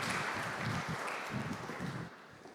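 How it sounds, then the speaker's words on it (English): Audience applause welcoming a speaker onto the stage at an urban forum, a steady wash of clapping that fades slightly toward the end. "We're all going to give you a big round of applause"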